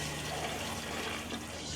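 A Thetford Aqua-Magic RV toilet flushes, giving a short, close, steady rush of water alone with no voices.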